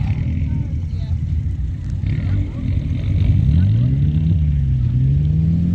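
Car revving through a handbrake skid on grass at a club event, a loud engine roar rising in pitch with a sweeping tone, people talking and shouting in the background.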